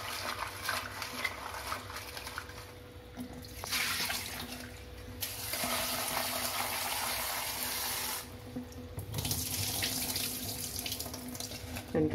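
Dried chillies are washed clean under a running kitchen tap: a steady stream of water splashes and gushes, changing in tone as hands move through it, fairly quiet and close, with no talking.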